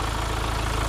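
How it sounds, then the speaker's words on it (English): A 2018 Hyundai Santa Fe engine idling, a steady, loud, continuous rumble with an even low pulsing rhythm, heard close up and alone. "The engine sound"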